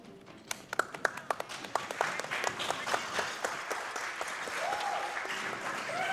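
A small group claps, starting with scattered individual claps that build into steady applause, with a few voices under it.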